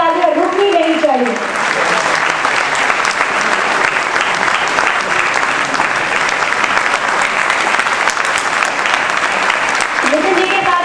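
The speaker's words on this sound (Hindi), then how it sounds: "जब तक हम इन्हें सम्मानित कर रहे हैं आपकी तालियां रुकनी नहीं चाहिए" Audience at a live concert night in Ludhiana applauds loudly and continuously, a dense wash of clapping that holds throughout with faint voices beneath.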